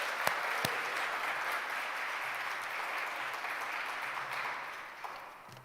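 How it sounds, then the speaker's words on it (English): Sustained applause from a poetry festival audience fills the room, a steady wash of many hands clapping that fades slightly at the end. "Please, one more round of applause"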